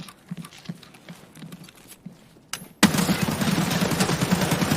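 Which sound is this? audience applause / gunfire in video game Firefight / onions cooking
gunfire in video game Firefight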